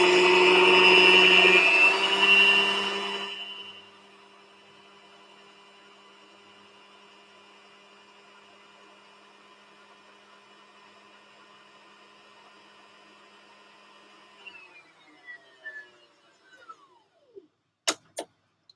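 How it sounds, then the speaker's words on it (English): A home sewing machine winds a bobbin with a loud, steady high-pitched motor whir that stops after a few seconds, then near silence before a few soft clicks and handling knocks. "I just wind the bobbin right there"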